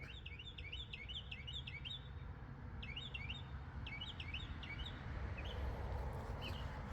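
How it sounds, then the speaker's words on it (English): Songbirds sing in a Florida backyard, repeated bright chirping phrases in bursts over a steady low outdoor rumble, fairly near and clear with pauses between phrases. "The birds are out singing."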